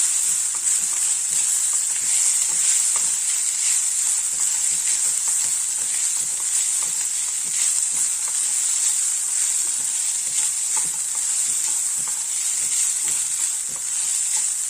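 Coconut mixed rice being stirred in a pan over a low flame, a steady sizzle and hiss with soft, irregular scraping strokes running throughout, close and continuous with no talk.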